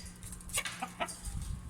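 Chickens cluck softly nearby in a short burst of a few brief calls over low background noise, with no talking.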